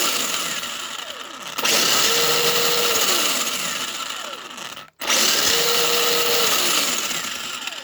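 RC car motor with a sensorless 120 amp GoolRC ESC running at full throttle, a loud steady high-pitched whine in two bursts. A brief cut-out separates them, and each burst has a short rising tone partway through.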